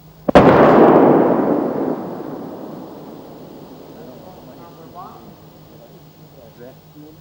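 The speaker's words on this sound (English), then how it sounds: "The composition B exploded violently." A Composition B explosive charge detonates violently at a Bofors munitions demonstration with one sudden sharp blast, followed by a long, loud rumbling roar that slowly fades across several seconds.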